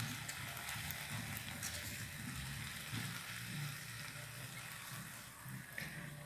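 Onion and seasonings sizzle quietly in olive oil in a pan for moqueca de bacalhau, a soft steady crackle with faint clinks and stirring and no talk.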